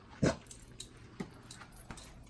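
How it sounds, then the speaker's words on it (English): A small pet dog whimpering indoors in a family home, heard as a few soft, short whines spaced apart, the first one louder than the rest, in a quiet room. "This is my little doggy Buster"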